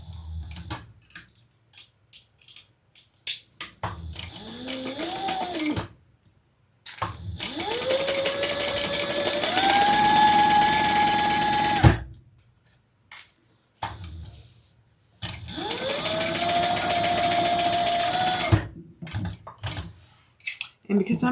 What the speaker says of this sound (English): We're going to sew that together.